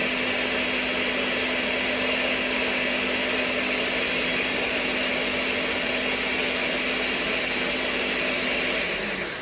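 A blender whirs steadily through ice cream, a loud continuous motor drone with a steady hum, running alone without pause until it winds down at the very end.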